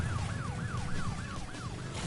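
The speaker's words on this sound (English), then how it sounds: "No, go away, police car." A police car siren from the Crash Bandicoot video game wails in fast repeating up-and-down sweeps over rumbling engine and game noise, steady and fairly loud.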